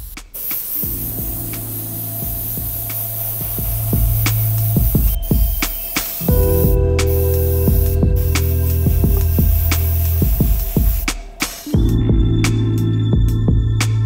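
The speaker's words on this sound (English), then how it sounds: "Same thing, we're gonna use my airbrush." An airbrush lays yellow paint onto a custom Air Jordan 3, sounding as a steady hiss in several long bursts with short pauses, over a constant low compressor hum.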